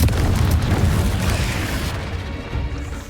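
Confringo fire spell blasting in Hogwarts Legacy, a loud booming explosion that hits at once and rolls on with dense low rumble, slowly fading over a few seconds with no talk.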